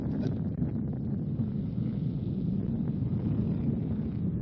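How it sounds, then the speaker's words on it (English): Strong wind buffets the microphone in a constant low roar, steady and loud throughout with no other clear sounds. "Very, very windy."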